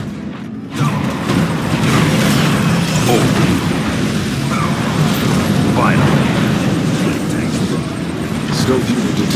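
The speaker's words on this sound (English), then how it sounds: "Tiberian explosion detected." A Tiberium explosion in Command & Conquer 3: Kane's Wrath skirmish erupts as a sustained loud rumbling blast with crackling debris, rising after a brief quiet start and rolling on for several seconds.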